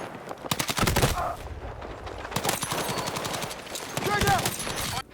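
Rapid bursts of hip-fired automatic gunfire ring out in the Battlefield 6 video game, close and loud, with dense volleys broken by short pauses.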